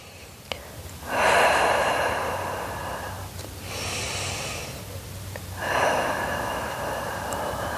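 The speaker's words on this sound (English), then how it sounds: "3 deep breaths here" Three slow, deep breaths drawn and released during a Pilates stretch with hips lifted high, each a broad airy inhale-exhale rising and falling with short pauses between, close and alone.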